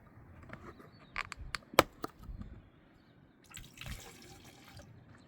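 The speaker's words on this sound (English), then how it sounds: "Half fill a 20-litre bucket with tap water." Tap water running into a 20-litre bucket, a quiet uneven splashing and trickling with a few sharper drips and splashes and a brief louder gush near the end.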